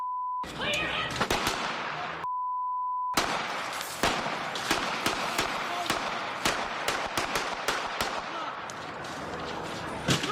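A burst of gunshots rings out outside a school, a rapid irregular volley of sharp close cracks following a tone and short silences, with brief voices mixed in.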